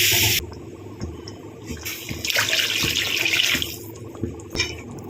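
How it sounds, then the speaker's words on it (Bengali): Water runs from a kitchen tap to rinse out a mixer jar that held coriander paste, then is poured into a pan of fried spice masala for a Bengali fish curry, a steady splashing rush with brief clatters, close and without talk. "এবার ধনেপাতার মিক্সিটা ধুয়ে আমি জলটা দিয়ে দিই।"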